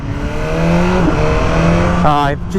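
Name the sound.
BMW motorcycle engine revving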